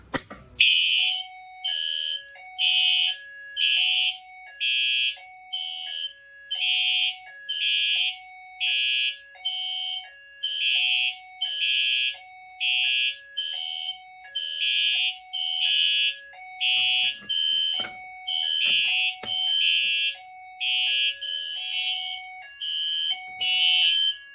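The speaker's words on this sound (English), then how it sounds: "Alright, next up we're going to re-alarm again with the Fire-Lite BG12L" A Fire-Lite fire alarm system, MS-9600UDLS panel, sounds after a BG12L pull station is activated: a steady, repeating pattern of loud, close horn-strobe blasts in an even rhythm, with a few brief clicks partway through and no talking.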